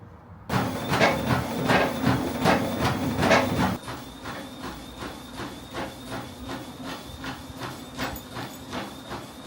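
Steady rhythmic footfalls of someone running on a treadmill, with the belt and motor whirring underneath; the pounding is louder at first, then eases to a lighter, even pace, with no talking.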